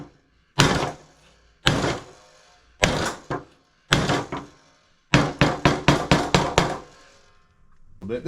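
Loud hammer blows ring on a thin steel mower deck, a few spaced strikes first, then a rapid run of about eight quick bangs.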